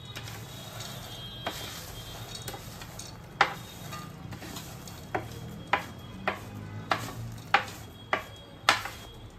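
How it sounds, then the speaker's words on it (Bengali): Boondi being stirred into sugar syrup, a spoon clinking against the pot in a steady series of sharp taps over a soft wet swishing, close and fairly quiet. "খুব ভালো করে আমি বোঁদেগুলোকে মিশিয়ে নেব এই রসের মধ্যে।"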